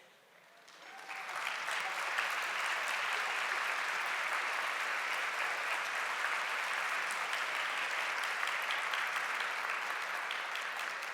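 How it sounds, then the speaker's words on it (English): An audience gives sustained applause for teen scholarship award recipients at a lunch event, the clapping swelling quickly and then holding as a dense, even roar of many hands. "That round of applause is for what you have already accomplished."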